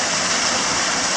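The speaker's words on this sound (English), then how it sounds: "So we're at the spa pool of Hammersley Gorge." Water rushing and splashing steadily at the spa pool in Hammersley Gorge, Karijini, a dense, even wash of sound close by with no voices.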